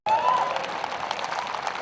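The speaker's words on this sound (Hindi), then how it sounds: "थोड़ी ताली अच्छी बजा दीजिए, मुझे खुशी होगी" Audience clapping at a Hindi comic poetry stage show, a dense wash of applause with some crowd noise that starts abruptly and holds steady for a couple of seconds.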